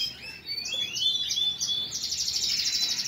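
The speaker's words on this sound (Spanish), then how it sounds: "Aquí tenemos otro pío vaca." A competition-trained pío vaca songbird sings a continuous, fairly close warbling phrase of high sliding notes that turns into a rapid trill toward the end, with no talking.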